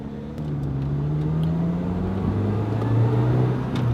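A Lotus Elise 220 Cup drives along a road, its engine humming steadily from inside the cabin, the pitch slowly rising and dipping with throttle over four seconds.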